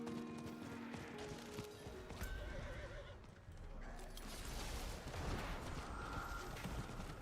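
A horse in the Diablo 4 video game whinnies and clip-clops as a character rides, with game effects and busy mechanical sounds layered over a steady hoofbeat rhythm.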